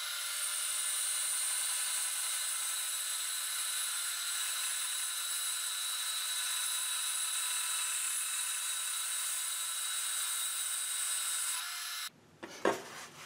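Bandsaw fitted with a 6 TPI blade resawing a wide board, a steady, even hiss and whine of the cut lasting about twelve seconds, then the noise stops abruptly and a few brief knocks follow.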